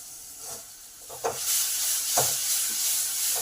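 Moringa drumstick paste sizzles in a pan for a stuffed paratha filling, a continuous close hiss that swells with a few soft stirring scrapes.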